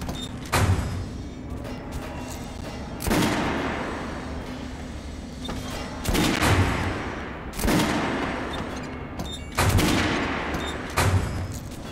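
Kalashnikov rifle fire in Metro: Last Light, loud bursts of shots repeating every couple of seconds, each ending in a sharp echoing tail.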